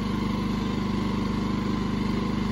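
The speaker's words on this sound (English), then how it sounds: "it's about the same volume as" A Champion portable generator running in eco mode, a steady close engine drone with an even pulsing hum and no variation, heard alone without voices.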